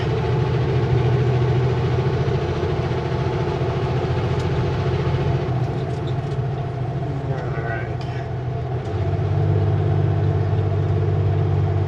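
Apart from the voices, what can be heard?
truck engine braking on descent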